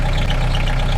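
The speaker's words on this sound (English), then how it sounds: "It is kind of got a bit of a noisy engine by the sound of it" A large diesel engine in a 1996 N-registered car runs at a steady idle, a loud, low, throbbing rumble with a constant rhythmic pulse.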